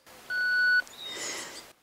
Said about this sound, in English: You'll hear a click and you'll hear the radio beep once, letting you know that it's on.